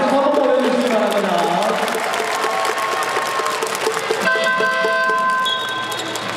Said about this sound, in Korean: 자, 일단 베스트 선수에게 박수 한번 보내주시기 바랍니다